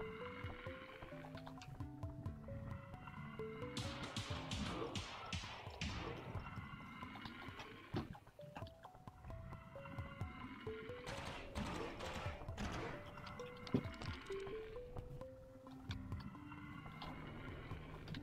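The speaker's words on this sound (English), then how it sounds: "I hate that sewer sound." Sewer ambience in the video game Cruelty Squad: a low, steady watery drone with a looping, warbling melodic tone and scattered splashy, squelching bursts over about eighteen seconds, fairly faint.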